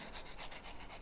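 Close, rhythmic scratching as a 2H pencil lead is rubbed back and forth on sandpaper, quick even strokes with no voices.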